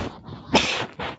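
A single sharp sneeze bursts out near the middle, loud and close, with faint indistinct sounds before and after.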